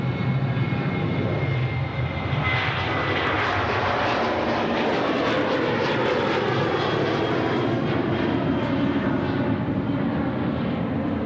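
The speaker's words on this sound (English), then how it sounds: "Qantas 737 rolling runway right." A Qantas Boeing 737 jet rolls down the runway on takeoff at Sydney Airport, its engines producing a loud, steady roar that swells and holds throughout with no talk.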